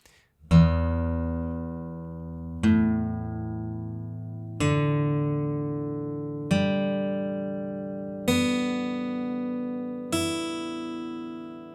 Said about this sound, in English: Now my guitar's already tuned into what we call standard tuning